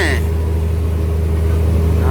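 A heavy 440 truck engine runs steadily and loudly nearby, a deep low rumble holding throughout as it approaches, with a brief higher tone at the start.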